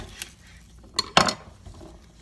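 A knife chops the woody ends off asparagus on a kitchen workspace, with a light tap, then a sharper pair of close clicks and clinks against the board, no voices.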